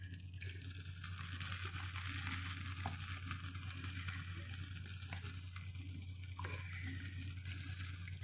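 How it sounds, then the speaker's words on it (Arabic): Cold syrup poured over hot, freshly baked basbousa sets off a steady close sizzling hiss that lasts throughout, with a few soft clicks and no talk. "هنسقيها الشربات طبعا سخن، البسبوسة سخنة والشربات بارد"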